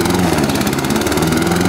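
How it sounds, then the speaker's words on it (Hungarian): A lawn mower running steadily up close during the first mow of the season in April, a loud continuous engine drone with a slight pulsing throb throughout. "Az első fűnyírás"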